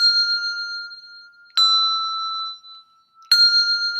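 Handbells ringing in a four-in-hand exercise, three clear struck rings spaced about a second and a half apart, each sustaining a bright pure tone before being damped, alone in a quiet room.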